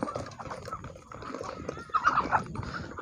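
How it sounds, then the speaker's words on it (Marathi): Free-range desi chickens on a farm cluck and call in short bursts, with a louder cluster of calls partway through over a busy background of other farm sounds. "त्या बघा आता मस्त कोंबड्या पण आहे त्याच्यात"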